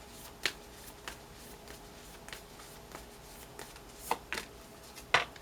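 A deck of tarot cards being shuffled, close up, in a series of soft riffles and sharp card snaps at irregular intervals over a quiet background, with no voices.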